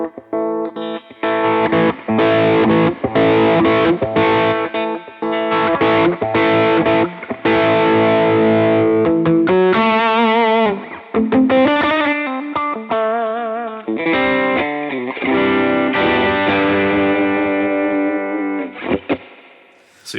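A guitar played through an Eventide H9 Sculpt distortion effect gives loud, buzzing chords and fuzzy single-note lines with sharp stops and restarts, with no talking.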